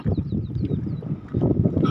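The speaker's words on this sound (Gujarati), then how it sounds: "ખેડૂતો નદીમાંથી પાણી લેતા હોય છે આવી રીતના મશીન માંડી, એન્જિન, ડીઝલ એન્જિન રાખીને" A diesel engine set up on a riverbank by a dam to pump water up from the river for farming runs with a steady low rumbling drone, loud and close, with a brief dip midway and wind buffeting the microphone.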